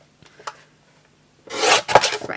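A paper trimmer cuts card, giving a couple of light taps and then a loud, brief scraping rasp in two close swipes as the blade slides across.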